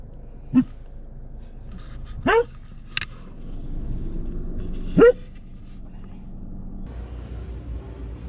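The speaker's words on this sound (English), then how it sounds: "he barks, but like Most of the time he's a very quiet dog, but now he's not being very quiet" A normally quiet dog barks and yips in three short, sharp outbursts spaced a couple of seconds apart, close by over low background noise.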